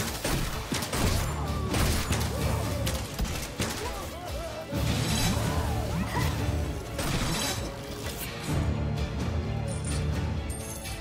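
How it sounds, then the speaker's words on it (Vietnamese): Crashing and smashing game effects as orcs break through a gate in the video game Orcs Must Die 3, a dense, loud run of impacts and shattering over busy action noise, with voices talking throughout. "Enemies are preparing to breach one of our gates. They've broken through a gate."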